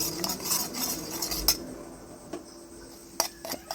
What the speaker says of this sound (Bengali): এটাকে এবার একটু নেড়ে চেড়ে নিই